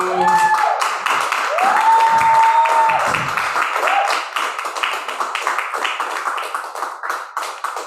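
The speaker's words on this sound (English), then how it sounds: "Keep your hands clapping for Abiodun." An audience applauds loudly at a tribute event honoring Black fathers, with dense sustained clapping and scattered voices and whoops over it, thinning toward the end into looser individual claps.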